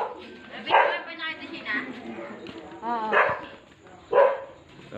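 A large dog barks a few times at a residence at night in the Philippines, the barks ringing out at moderate distance between stretches of someone talking.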